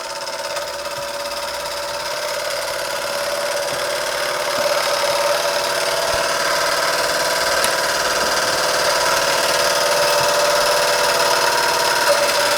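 A small German vertical-boiler model steam engine runs steadily, giving a continuous close mechanical hum and hiss with a faint rhythmic knocking throughout, with no talking.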